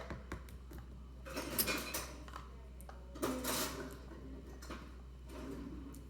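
Kitchen utensils clatter and clink as someone rummages for a whisk while making a chocolate mug cake, with scattered close metallic taps and two louder bursts of jangling midway.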